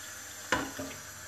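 Water from a kitchen tap splashes briefly into a vessel for making black tea, a short close burst with a second smaller gush after it, then quiet.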